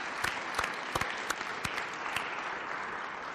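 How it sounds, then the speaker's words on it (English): A room full of people applauding at a community listening session, with dense, even clapping and a few sharper individual claps standing out near the start. "Let's give them a round of applause"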